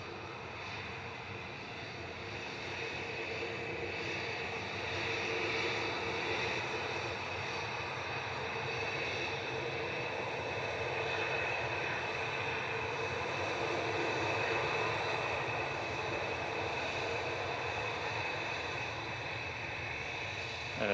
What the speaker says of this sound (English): Aer Lingus just touching down from Dublin